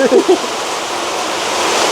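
Whey water from homemade cow's-milk paneer drains in a steady, loud, splashing stream close by, with a brief voice at the start.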